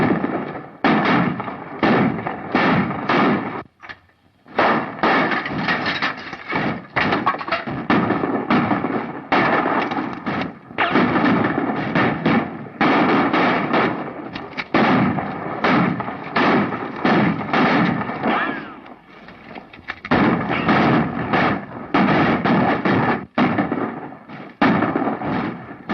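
A dense, loud barrage of gunfire in a 1936 John Wayne western shootout, the shots coming in continuous rapid bursts with only brief gaps and no talking.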